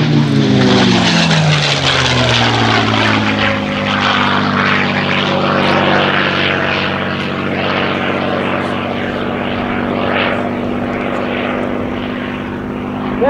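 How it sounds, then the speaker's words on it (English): A P-51 Mustang's piston engine and propeller roar steadily at close range through a steep, sustained climb at an airshow, a loud continuous drone with a slightly falling pitch and no voices. "He will climb that P-51 like a homesick angel."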